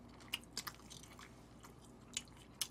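Close, quiet crunching and biting of crispy gochu basasak fried chicken during a Korean mukbang meal, a few sharp crisp bites spaced irregularly over a soft background, with no talk.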